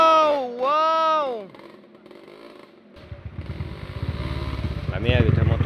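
Trail motorcycles ride along a dirt trail; a rider's excited shout comes first, then an engine rises with a rough, pulsing rattle that grows steadily louder and closer.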